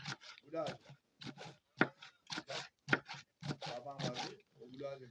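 A knife chops peppers for making tomato paste, with sharp, irregular cuts landing on a board under near-continuous close talk.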